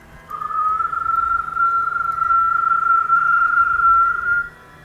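One person whistles a single long, steady, unbroken tone for about four seconds, clear and close, over faint room noise.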